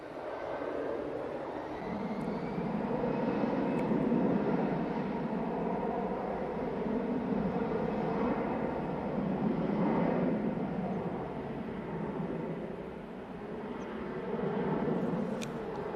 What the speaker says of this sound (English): Right, EasyJet coming in.